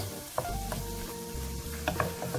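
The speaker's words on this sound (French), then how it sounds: "Vous les faites vraiment sauter rapidement dans l'ail, le persil." Mussels sautéing quickly in a pan with garlic and parsley, a steady close sizzle broken by a few sharp clicks of stirring utensils against the pan.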